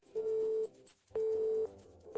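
Repeating telephone line tone after a caller hangs up: three steady, evenly spaced beeps, each about half a second long, separated by brief silences, clear and alone.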